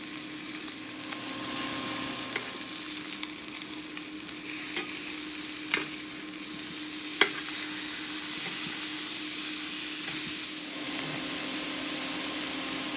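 Steak sears in a cast iron skillet on high heat, a loud steady hiss of frying with crackle and a few sharper pops, heard up close with no voices.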